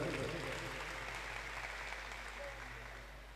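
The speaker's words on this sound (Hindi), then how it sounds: "तालियां बजा दो जरा" Audience clapping at a devotional bhajan gathering, a steady dense patter of many hands held at an even, moderately distant level for a few seconds.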